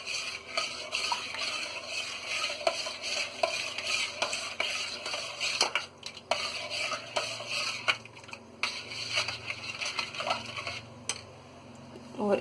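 A spoon stirs Punjabi lassi with Rooh Afza in a container, with close, repeated clinks and scrapes in an uneven rhythm and no talk.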